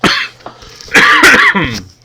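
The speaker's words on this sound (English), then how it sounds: "I'm going to try not to do too much coughing in your face here" A close, loud fit of repeated coughing and throat clearing from a person who is still a little sick.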